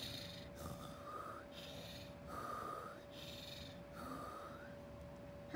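A voice imitates panting with three slow, breathy in-and-out heaves spaced evenly, faint and close over a quiet background hum.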